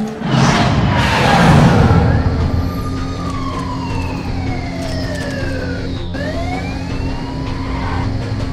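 A car engine roars and revs during a Binary Domain chase sequence, loud and continuous, with rising and falling tonal sweeps and sirens wailing alongside.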